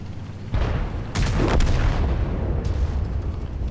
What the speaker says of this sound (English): Fired his gun.